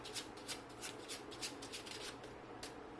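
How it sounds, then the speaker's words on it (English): Soft, quiet riffling of tarot cards being shuffled, a series of brief papery flutters repeating steadily, close by with no talking. "I'm just going to shuffle a bit and start with your tarot reading."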